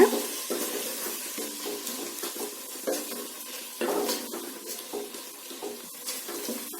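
Onions and tomatoes with a little salt being sautéed in a pan. Quiet, irregular scraping stirs come over a soft, wet sizzle, with sharper strokes now and then.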